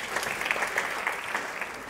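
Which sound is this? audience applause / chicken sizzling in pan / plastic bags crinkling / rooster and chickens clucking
audience applause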